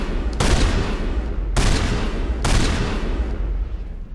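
Bursts of gunfire in Mass Effect Legendary Edition come as three loud, dense volleys about a second apart, each a sharp crackling onset that rings out briefly before the next.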